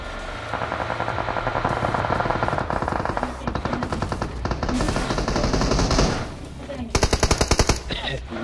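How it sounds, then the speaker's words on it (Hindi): Rapid automatic gunfire in BGMI, a mobile battle royale game, rattles in long sustained bursts, then sharper closer volleys near the end, loud and dense over faint background sound. "टैक्स सेंटर के पास से आवाज आती है गोली चलने की।"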